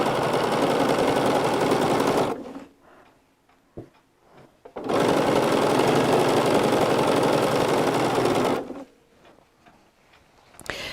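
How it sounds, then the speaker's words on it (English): A home sewing machine stitches along the side of a quilt, running in two long, loud, steady bursts with quieter pauses between them and a few soft clicks. "And now we're just going to sew down side 2."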